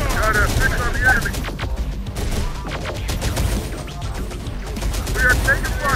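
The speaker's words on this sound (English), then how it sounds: "We are taking fire." Loud, continuous gunfire and explosions in the video game Terminator: Dark Fate Defiance, with dense bursts of automatic fire and heavy impacts, while radio-style voice chatter plays over the battle.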